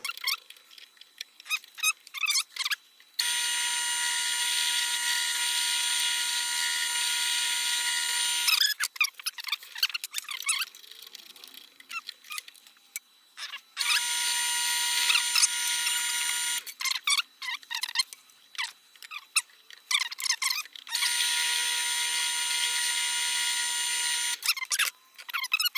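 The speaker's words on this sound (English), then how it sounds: "let's head to the drill press" A drill press bores into a part for a DIY GoPro pegboard mount. It runs in three long, steady high-pitched whining bursts, and short clicks and handling noises fill the gaps between them.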